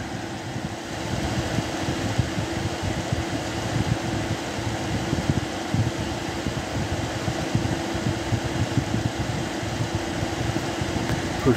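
A King Of Fans H-0414 ceramic heater runs on low heat, giving a steady, even fan whoosh with a low hum that continues unchanged, with no talking.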